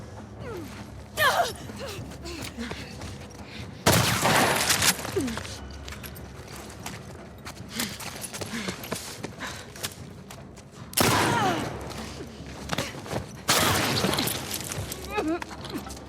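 Shotgun blasts in a video game, with about four loud, booming shots spaced several seconds apart, each with a short, harsh tail, under steady in-game noise and a person talking throughout.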